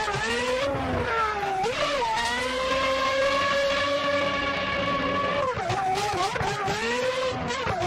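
An Aston Martin engine roars in a racing video game, a loud steady drone that holds high revs and dips and climbs through gear changes, with talk underneath.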